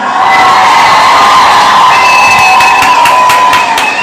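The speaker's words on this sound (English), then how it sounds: "you all really do deserve a round of applause" A crowd cheers and whoops loudly throughout, with scattered clapping and shouts blending into a continuous roar.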